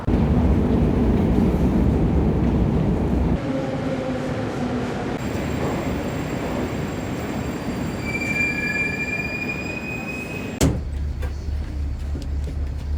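A Moscow metro train moves through a station, its wheels squealing in long high tones and its rumble going on without a break, then a sharp clank before the sound settles to a lower hum.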